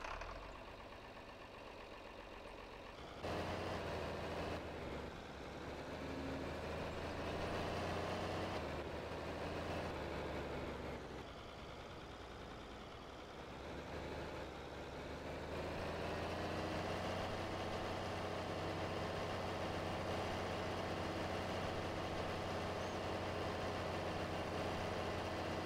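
Simulated John Deere 4020 tractor engine in Farming Simulator 22, a steady low diesel drone that revs up and settles back as the tractor sets off, loud and continuous without any talk.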